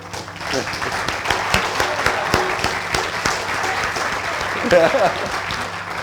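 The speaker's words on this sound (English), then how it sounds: "a round of applause for them" Steady applause from a crowd at a book launch party fills the space, with a voice speaking over the clapping throughout.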